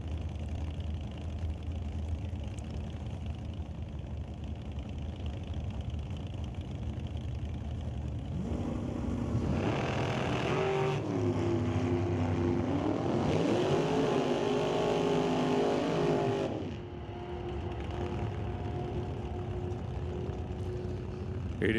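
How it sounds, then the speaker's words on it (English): A dragster with a 600-cubic-inch big-block engine mounted behind the driver roars down an NHRA drag strip, the engine's loud rising howl swelling over steady track noise, then cutting off as the run ends, with an announcer talking throughout. "Dragster with a 600 inch big block out of DG sitting right behind his head"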